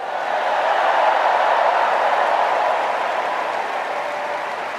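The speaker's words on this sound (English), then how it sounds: "Let's give a special round of applause to our First Lady, Jill Biden." A large convention-hall crowd at the 2024 Democratic National Convention applauds the First Lady with a steady, dense wash of clapping and cheering that holds at full strength for about five seconds.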